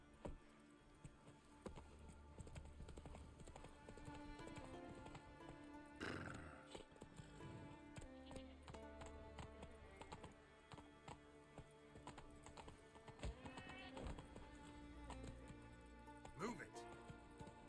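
Roach, a horse in The Witcher 3, galloping with steady hoofbeats amid game music and ambient effects, with a voice talking over parts of the run.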